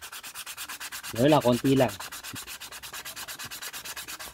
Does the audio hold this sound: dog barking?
no